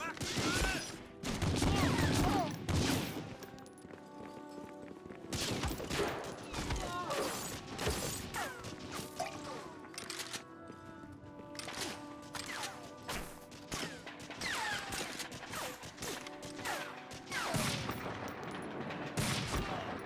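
A semi-automatic sniper rifle fires in the World War II shooter Medal of Honor: Frontline, loud sharp shots cracking in rapid, uneven bursts with brief pauses, mixed with clattering impacts and other battle gunfire.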